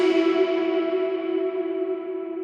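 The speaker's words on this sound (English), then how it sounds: "those big, long, spacey kind of reverb throws" A long, fully wet, spacey reverb throw on a pop vocal in the style of Billie Eilish, with a sustained tonal wash that rings steadily and slowly decays over a couple of seconds, with no dry voice on top.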